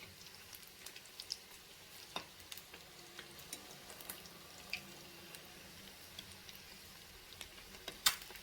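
Boiled eggs frying in oil in a pan for egg pickle, a soft continuous sizzle peppered with sharp little pops and spits at irregular intervals, close by and without speech.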